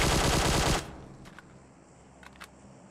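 Rapid machine-gun burst in PUBG Mobile, a loud dense string of shots lasting under a second that cuts off abruptly, followed by a couple of faint distant pops.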